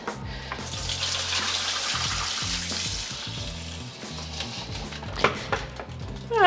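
Water runs and splashes steadily while a caravan toilet cassette is rinsed, a continuous close hiss with sloshing and gurgling and a few sharper splashes near the end, and no talking.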